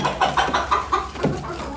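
Several hens and a rooster in a small backyard flock cluck in a quick run of short, close calls, one after another across the moment.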